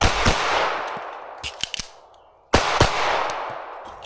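A Beretta 92 Elite pistol fires two loud shots at an outdoor range, followed by clicks and rattles of a magazine change, then two more sharp reports with ringing decay.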